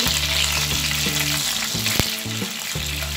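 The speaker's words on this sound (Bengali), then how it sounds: "গরম মশলাগুলোকে একটু ভেজে নিচ্ছি" Whole spices, bay leaf, cinnamon and cracked cardamom, frying in hot oil in a pan, a steady close sizzle that holds throughout with a faint stirring knock near the middle.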